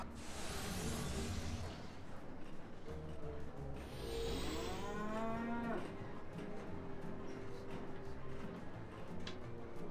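A cow moos in the Sam & Max adventure game, a long, loud, wavering low call rising and falling in the middle of the clip over steady background ambience and music, with no talking.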